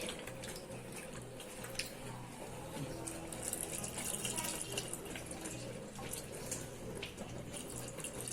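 Squeezed tamarind water splashes and trickles steadily into a pot of Kerala sambar, a continuous wet pouring sound at close range with faint clatter.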